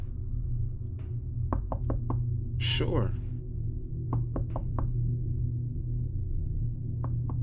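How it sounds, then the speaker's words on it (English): Repeated knocking on the back door of a house, sharp raps in short bursts of three or four spread across the clip, under a steady low hum, with a brief rustle in the middle and a short spoken reply. "But you ain't gotta keep knocking."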